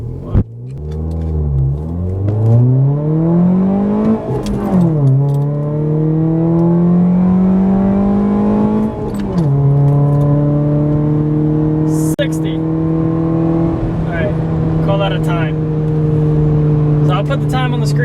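A Ford Fiesta fitted with an HP tuning chip accelerates hard from inside the cabin, its engine drone rising loudly through several gear changes before settling into a steady high cruise.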